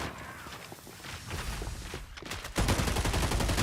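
Automated turrets fire in the FragPunk shooter game, rapid rattling bursts that grow louder and denser near the end, layered with running footsteps and game effects.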